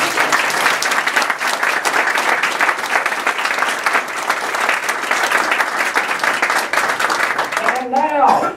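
Loud, dense applause from an audience at a Global Entrepreneurship Week kickoff event in Lexington, Kentucky, sustained throughout before a voice begins speaking at the very end.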